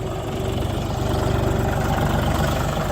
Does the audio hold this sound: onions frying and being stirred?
no